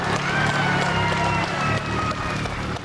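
At the West Point Hotel Casino finish of the TARGA Tasmania 1995 rally, a gathered crowd cheers and claps loudly and continuously, a dense roar with a steady engine drone beneath it.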